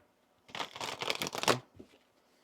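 Tarot cards riffle-shuffled in one close, brisk burst of overlapping flutters lasting about a second, then a short pause and a sharp snap as the deck is squared at the end.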